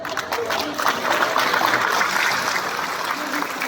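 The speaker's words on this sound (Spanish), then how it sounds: "ese aplauso que se escucha todavía mucho más fuerte" Sustained applause from a crowd at a celebration honoring Cecilio Morales Vázquez, a dense steady clatter of clapping hands filling the space, with faint voices mixed underneath.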